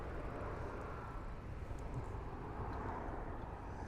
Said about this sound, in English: and watch them planes come in